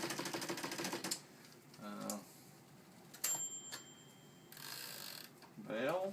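A 1950s Remington Quiet-riter typewriter is worked by hand: clusters of mechanical clicks and ratcheting, a brief bell-like ping, and a carriage-style whir near the end, all close and fairly quiet.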